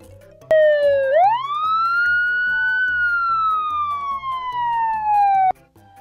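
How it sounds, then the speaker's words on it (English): A loud electronic police car siren swoops upward, holds a long wailing tone, then slowly descends before stopping abruptly, with a quiet rhythmic pulse beneath. "A black police car."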